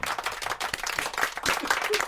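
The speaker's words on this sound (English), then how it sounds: "Give him a clap" Brief burst of clapping from a small group during an off-air interview, several hands slapping irregularly for about two seconds.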